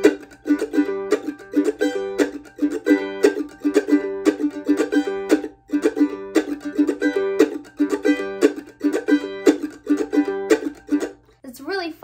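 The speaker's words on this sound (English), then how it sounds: "we start to feel more of that bluegrass strumming pattern coming out" Fast bluegrass strumming on a mandolin, with crisp, evenly spaced chop strokes in a quick driving pulse, close and bright, running alone until a brief stop at the very end.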